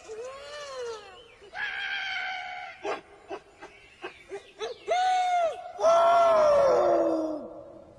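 Animated monkeys crying out in a 2000 film, a run of varied shrill hoots, squeals and rising wails, loud and close, with a burst of rapid chattering yelps in the middle.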